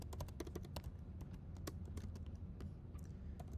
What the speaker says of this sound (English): So this is just a list of colors that are represented by these 6-character strings known as hex strings that I'm typing in now.